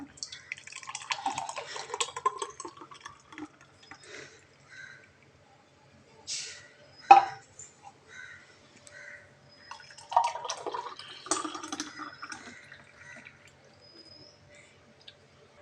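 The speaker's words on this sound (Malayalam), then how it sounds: "അപ്പം ഞങ്ങളിത് ഗ്ലാസ്സിലേക്ക് ഒഴിക്കാൻ പോവുകയാണ്" A thick apple and melon shake is poured into a glass in uneven glugging bursts, with a sharp clink midway and brief quiet pauses between pours.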